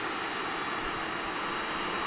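Small DHL cargo aircraft at DFW International Airport, a brief, steady engine roar with a high whine, unbroken and heard alone without talk.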